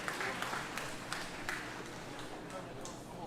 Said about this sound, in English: Keep the applause going as he comes.